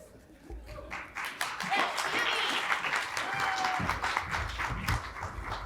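An audience at a State of the LSC 2025 presentation claps after a video is shown, swelling into sustained applause mixed with a little laughter while a voice talks over it.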